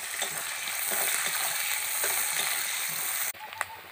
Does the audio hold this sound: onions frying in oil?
yes